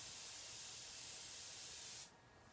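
Spray paint hisses from an aerosol can onto Game of Thrones Night King fan art, a steady close hiss for about two seconds before it cuts off, leaving faint room noise.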